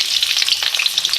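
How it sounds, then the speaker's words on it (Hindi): Two medium onions, cut into long slices, fry in hot oil, giving a close, bright, continuous sizzle with faint stirring movements and no talking. "2 प्याज थी मेरे पास मीडियम साइज़ की, तो फ्राई कर लें।"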